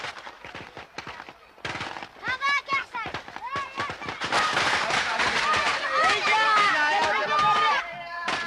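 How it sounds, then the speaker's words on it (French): Celebratory gunfire into the air at a Yemeni wedding: many sharp cracks and bangs, scattered then denser, mixed with crowd noise and loud chanting voices. "les hommes vont manifester bruyamment leur joie en tirant en l'air et même en lançant des grenades"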